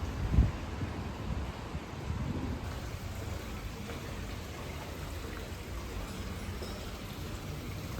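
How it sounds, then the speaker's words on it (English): Steady rain falling on a Berlin city street near the Bundestag, a continuous soft hiss of drops with some wind rumble against the microphone, no voices. "these raindrops are getting thick"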